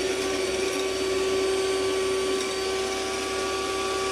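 Electric mixer whipping batter for an apple sponge cake, a loud, steady motor whine with a constant hum that continues throughout, with no talking.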